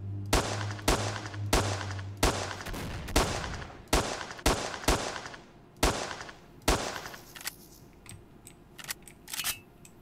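Gunfire in S.T.A.L.K.E.R. Shadow of Chernobyl: about a dozen sharp, loud single shots spaced unevenly, some in quick pairs, followed by fainter scattered pops and clicks toward the end.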